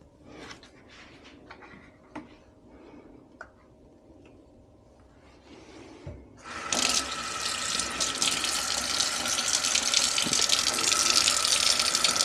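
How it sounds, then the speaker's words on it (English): After some quiet handling noises, water starts gushing from a tap into a potted alocasia plant, a loud, steady hiss of running water that continues to the end. "Now I'm going to put some water in him."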